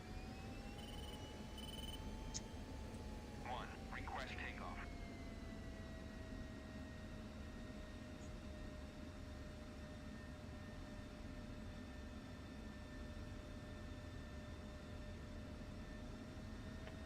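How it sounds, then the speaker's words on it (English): A jet aircraft in the DCS flight simulator idles after start-up, a steady droning hum with a high tonal whine that dips slightly early on, accompanied by a few brief clicks near the start. "aircraft has been started"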